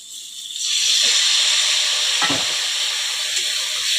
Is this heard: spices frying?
yes